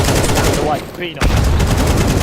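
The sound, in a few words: gunfire in the video game Counter-Strike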